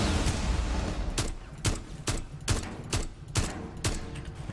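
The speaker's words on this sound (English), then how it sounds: "there's Tachanka's gun" Tachanka's mounted gun firing in the Rainbow Six Siege video game: a burst of repeated sharp shots, about eight to ten in fairly even rhythm, loud and close over low background noise.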